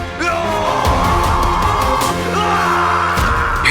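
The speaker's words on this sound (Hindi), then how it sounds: "ये चीखें सुनाई दे रही हैं।" Loud, sustained screams in a dramatic animated fantasy scene, wavering cries layered over booming dramatic sound with no pause.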